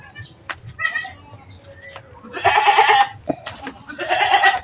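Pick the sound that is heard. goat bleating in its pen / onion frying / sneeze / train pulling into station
goat bleating in its pen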